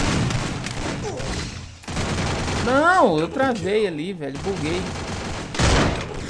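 Gunfire from a frenetic multiplayer video game shooter, with rapid bursts of automatic shots rattling alongside a wavering synthetic tone while someone talks over it.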